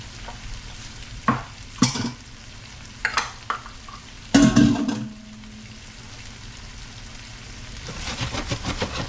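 Pepper shrimp sizzle in a hot pan, with several sharp bursts of stirring and spattering, then a building steady frying hiss near the end, close and with no talk.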